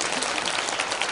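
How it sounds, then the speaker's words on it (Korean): An audience claps together at a lecture on Christianity and the March First Movement, a short dense burst of steady applause in a hall. "우리 이거 다 같이 박수해야 됩니다."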